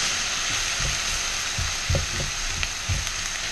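Onions frying in a pan with a loud, steady, close hiss, and dull thumps from stirring every half second or so; no one speaks.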